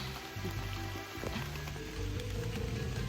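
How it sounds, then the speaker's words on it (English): Steady rain patters on surfaces nearby, a dense continuous hiss of drops with no talking. "Alright, it's raining."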